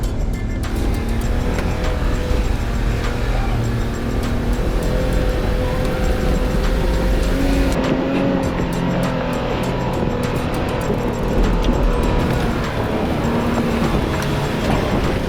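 A Toyota Land Cruiser 105 with both lockers engaged strains in second gear at about 5000 RPM while climbing off-road, its loud, sustained engine roar continuous and close throughout.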